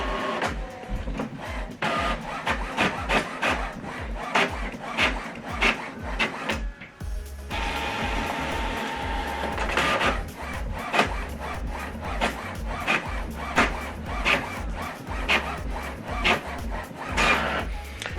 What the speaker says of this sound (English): So now this document is going to print out double-sided